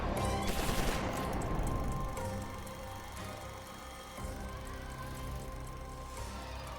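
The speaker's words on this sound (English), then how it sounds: "shots are fired" Gunfire in a history documentary about the clash at the Polo Bridge outside Peking, with rapid bursts and crackling shots up front that fade into a lower rumbling background.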